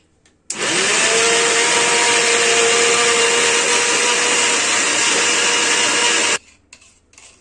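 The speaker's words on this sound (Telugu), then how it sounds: "మిక్సీకి వేస్తా ఉన్నాడు" An electric mixer grinder grinding ginger starts abruptly and runs loudly with a steady whirring roar for about six seconds, then cuts off.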